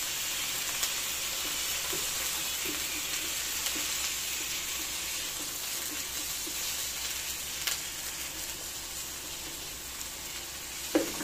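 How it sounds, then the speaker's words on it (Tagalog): Pork pieces sautéing in a pan for Filipino adobong baboy, a steady close sizzle and crackle with occasional stirring clinks and scrapes, no talk. "Ang karne kasi ano eh, kailangan talaga gisahin."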